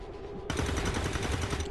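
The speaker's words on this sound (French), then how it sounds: "c'est des bons tirs ratés, en fait, pour le coup" A rapid burst of video-game gunfire from XCOM 2 breaks in after a brief lull and continues as dense, loud rattling shots until the end, with no speech over it.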